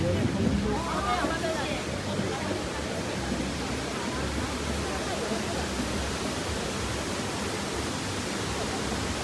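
Wulai waterfall in Taiwan and its river produce a dense, steady roar of rushing water, loud and unbroken from start to finish, with no voices.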